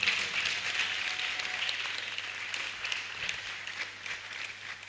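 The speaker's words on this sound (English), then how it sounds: "Let's clap once more for him." Faint, distant audience clapping at an alumni reconnect gathering, a thin steady patter of many hands with a low hum beneath it.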